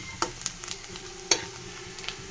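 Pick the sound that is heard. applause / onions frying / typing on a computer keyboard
onions frying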